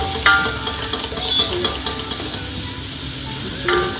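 A spice mixture with turmeric powder is stirred in a frying pan, giving a bright sizzle with scraping spoon strokes and occasional metallic clinks against the pan, close and fairly loud.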